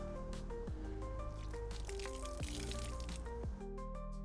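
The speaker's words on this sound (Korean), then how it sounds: "여기다가 물을 한번 한 컵 정도 뿌려보도록 할게요" About a cup of water poured over the waterproof rain cover of a Stormbike BR1 carrier-block front bike bag, giving close splashing, dripping and trickling over a steady background.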